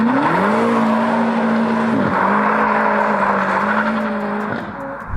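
A BMW M5 driven hard, engine droning steadily at high revs with a pitch that rises, dips at a gear change, then holds, loud and close inside the cabin, tyres adding a rough road roar.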